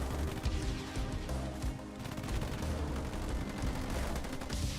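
Gunfire from snipers in the Halo Wars 2 strategy game during a 2v2 match. Dense, continuous shots and crackling bursts sit over a busy battle soundscape.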